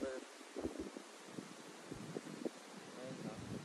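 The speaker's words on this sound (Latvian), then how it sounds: "Baigais vējš, nevar baigi iemest." Strong wind sweeps across a wild fishing pond, a steady broadband rush buffeting the microphone, with a voice speaking faintly beneath the noise.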